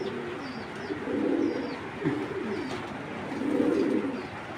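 A young male racing pigeon coos in low, soft, rolling phrases, two main bursts close by, with faint higher chirps of other birds in the background and no talk.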